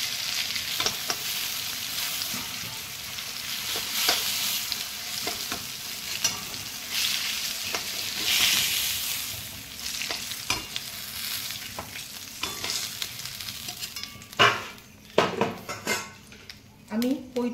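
Pointed gourd fries in hot oil with a steady sizzle while a spoon stirs and scrapes the pan, ending in a few louder clinks and clatters of cookware.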